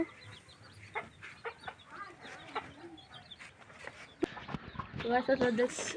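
Hens and ducks cluck and murmur around their coop at morning egg-collecting time, a string of short calls at varying distances, with a person talking between them.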